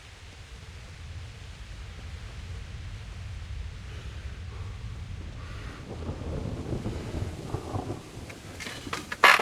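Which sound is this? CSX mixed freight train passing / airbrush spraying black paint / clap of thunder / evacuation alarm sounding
clap of thunder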